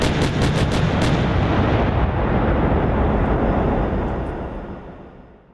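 A tank firing in a Minecraft Godzilla Rising mod, a quick burst of sharp shots opening into a heavy booming blast that rumbles on and slowly fades away.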